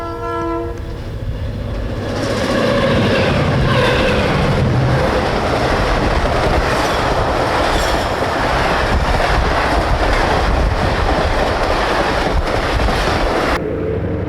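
A westbound Erie Lackawanna Phoebe Snow passenger train sounds its horn in a few loud blasts, then roars past up close with steady wheel clatter that cuts off sharply at the end.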